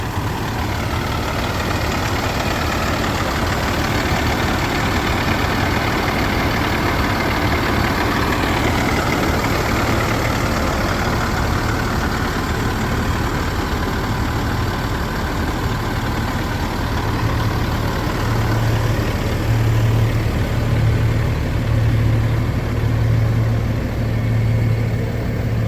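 A Peterbilt 387 log truck sits idling at night in winter, its engine giving a steady, loud low rumble with a constant hum that barely changes for nearly half a minute, with no voices.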